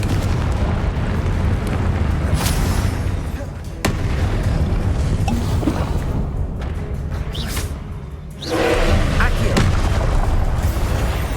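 Confringo fire-blast spells in the Hogwarts Legacy video game, loud booming explosions over a dense rumbling battle bed, with a big burst near the end and a voice shouting over the din.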